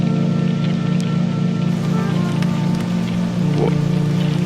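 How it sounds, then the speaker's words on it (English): Steady rain falls continuously in an animated short, a dense, even hiss with a low droning undertone that holds throughout, no voices heard. "Why is it still raining?"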